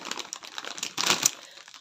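A crisp Doritos packet reused as packaging crinkles close up in a steady rustle of crackles that swells into a louder burst near the end.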